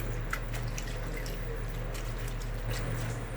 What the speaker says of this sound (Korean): 차가운 물을 넣고 헹궈서 물기를 빼줄 거예요.